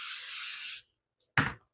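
Cooking spray hissing into an 8x8 casserole dish, one steady close spray lasting under a second, then a faint click and a brief knock as the can is set down.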